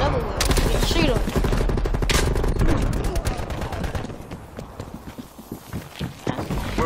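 Rapid automatic gunfire from a Call of Duty Black Ops multiplayer match, dense bursts of shots rattling continuously and loudly before thinning into scattered reports, with game sounds and voices mixed in.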